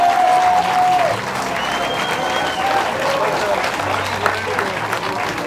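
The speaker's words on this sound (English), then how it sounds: "Give them a round of applause." An audience claps steadily and fairly loudly for assembled veterans at a tribute event, a dense, even wash of applause with some crowd noise mixed in.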